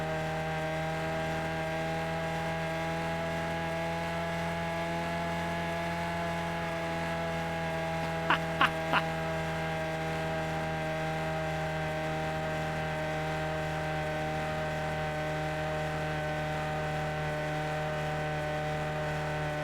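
A car engine in the racing video game Gran Turismo 6 holds a steady, droning tone rich in harmonics, broken only by a few quick clicks midway.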